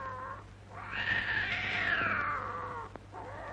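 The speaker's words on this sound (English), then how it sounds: "Darn those cats." Cats yowl in one long, rising and falling caterwaul that swells loudly in the middle, framed by shorter wails before and after, and a brief click near the end.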